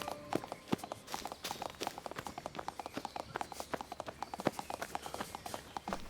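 Donkey hooves clip-clopping as a sound effect, a steady, rapid run of crisp close hoofbeats on a hard surface.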